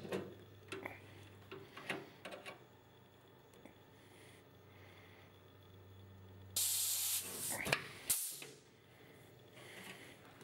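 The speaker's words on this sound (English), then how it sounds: "About to start riveting. I got to use the squeezer a lot on this particular area" A pneumatic rivet squeezer sets nose rivets on the wing of an RV-10 kit aircraft, giving a short hiss and a sharp squeeze burst among quiet clicks and handling noises in a workshop.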